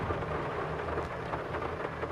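Rain and thunder in the farming video game Farming Simulator 22, a steady, dense hiss of rainfall with a low rumbling undertone, constant and moderately quiet for the whole stretch.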